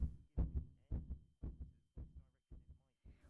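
A steady heartbeat sound effect, close and thumping, with regular double-beat pulses repeating about every half second and quiet gaps between them, heard alone without talk.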